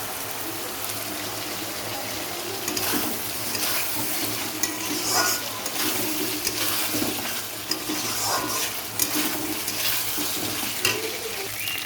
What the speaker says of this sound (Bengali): তো মাছের মাথাটা দিয়ে দেবো।